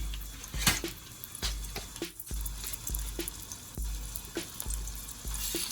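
A piece of frozen chorizo sizzles in a pan over the fire, a steady crackle broken by a series of sharp clanks and stirring knocks.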